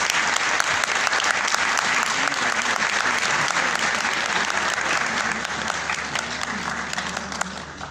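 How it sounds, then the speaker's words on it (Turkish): An audience at a special organized event applauds as the event's lead organizer is invited onto the stage, with dense, sustained clapping that fills the room and eases slightly near the end. "Supervisor'ımız Yaşar Sezer güçlü gönülden alkışlarla bu özel organizasyonun baş mimarını sahneye davet ediyoruz."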